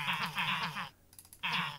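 Baby villagers in Minecraft let out short, nasal, bleat-like squeaks, several in quick succession, then a pause with faint clicks, then another burst, close and clear.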